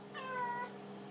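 A single drawn-out cat meow rises over low room hum, near and distinct, then fades into quiet background.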